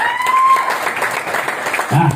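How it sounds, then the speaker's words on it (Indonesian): Brief audience applause at a seminar on interest-free business, a short burst of clapping with a voice briefly sounding over it. "Ya, tepuk tangan untuk PTBS."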